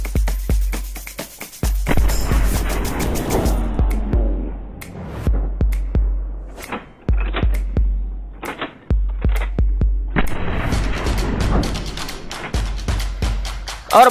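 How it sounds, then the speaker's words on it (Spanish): Carcano rifle shots in Red Dead Redemption 2 Online ring out in a steady series of sharp, loud cracks with deep thumping low end, each followed by a short decay, repeating across the whole stretch with no voices. "Comenzamos la prueba con el rifle Carcano."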